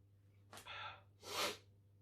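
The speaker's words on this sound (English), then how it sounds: "Forgive me for the sneeze" A single sneeze sounds close: a sharp in-breath, then a forceful burst, over a low steady hum in an otherwise quiet room.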